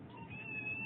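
A house cat lets out one short, soft meow close by, with no speech.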